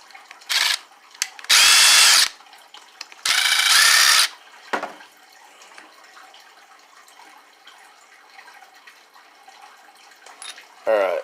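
Power drill or ratchet removing two bolts from the carburetor of an ECHO GT-225 string trimmer: two loud, sustained whirring bursts of a couple of seconds each, with small clicks and clatter of parts between them.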